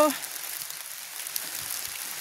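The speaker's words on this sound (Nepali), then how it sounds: "पानी निकै दर्केको छ।" Heavy rain falls steadily as an even, hissing wash that holds at a constant level from start to finish, with no voices over it.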